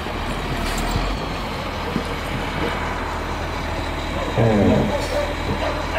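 A snow plow machine rumbles past, a steady heavy engine drone with a louder surge near the end, with a person talking over it.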